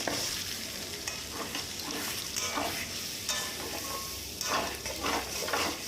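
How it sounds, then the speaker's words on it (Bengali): Ground spice paste sizzles and fries in a pan for chicken changezi, with steady stirring scrapes and clinks of a utensil against the pan, close and continuous, no talking. "ওই বাটা মশলাটা এবার ভালো মতো কষাবো।"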